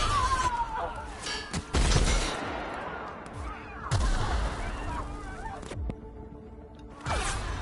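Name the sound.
gun firing in video game The Outer Worlds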